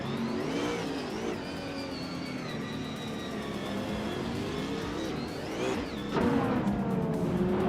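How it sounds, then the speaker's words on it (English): A 2020 Apollo Intensa Emozioni supercar engine in a racing game on a tight street circuit, a steady high-pitched wail with rising and falling revs as it shifts, another car swelling past near the end. "Scuderia Veloce is driving a 2020 Apollo Intensa Emozioni"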